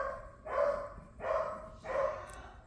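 A pet dog in a home barks three times at an even, unhurried pace, each bark short and fairly loud but a little distant, with quiet room tone between them and no talking.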